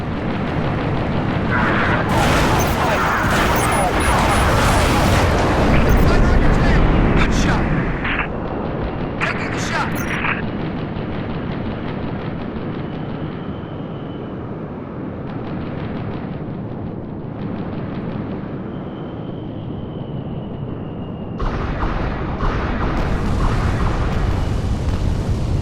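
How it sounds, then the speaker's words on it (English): Corvette cannon blasts in the video game Halo: Reach, heard as loud, rumbling booms and bursts layered over dense battle noise, easing to a quieter stretch before another loud surge near the end. "Those blasts are from the cannons of the Corvette"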